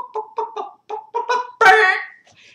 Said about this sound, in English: So you got the chicken clucking